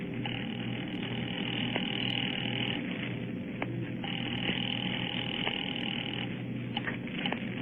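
A steady electronic telephone ring sounding continuously through a narrow, old-fashioned line, with a few faint clicks, close and unbroken, no voices, from a 1943 radio drama.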